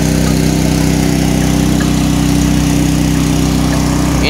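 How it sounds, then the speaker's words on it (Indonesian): A loud engine runs steadily and close by beside a murky fish pond, a constant droning hum with a rough mechanical rattle, no voices. "suara dari mesinnya sangat berisik sekali ya"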